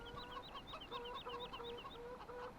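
Busy clucking from a group of chickens in the farming video game Farming Simulator 17, rhythmic repeated calls and higher chirps layered over each other, continuous and fairly close.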